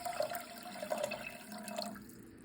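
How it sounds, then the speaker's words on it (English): Water pours steadily into a medium-sized pot holding about a cup of washed rice, a continuous close splashing and trickling for a couple of seconds that fades at the end. "into that pot, we're going to put about 2 cups of water"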